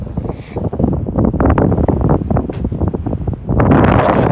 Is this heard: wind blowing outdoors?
yes